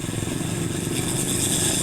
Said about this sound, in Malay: Bahaya juga motor ni.